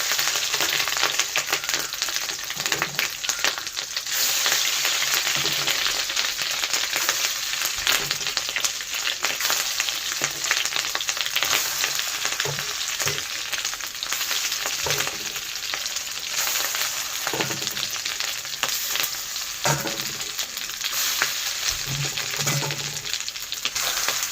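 Steady, dense sizzle and crackle of batter frying in hot oil, continuous and close, with occasional soft clinks and spatters, no voices.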